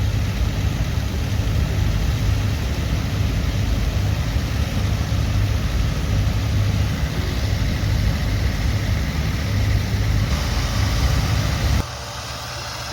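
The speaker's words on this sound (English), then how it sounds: "we got Mr. Danny Anderson up there on the 1456 front wheel assist, pulling a 5-bottom 720 International plow" An IH 1456 front wheel assist tractor pulls a 5-bottom 720 International plow at a field demonstration day, its heavy diesel engine droning loud and steady, then dropping abruptly to a lower, quieter level near the end.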